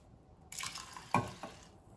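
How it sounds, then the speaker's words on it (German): Water runs into a cooking pot with rice for sushi, a splashy pour that starts partway through, peaks with a gurgle and then trails off, close and fairly quiet. "Und füllen es mit einer entsprechenden Menge Wasser auf."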